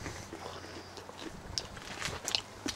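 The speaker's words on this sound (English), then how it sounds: "These are sugar snap. These are so crunchy." Crunchy sugar snap peas being bitten and chewed close by in a home vegetable garden, a few sharp crisp snaps and crunches over quiet outdoor background.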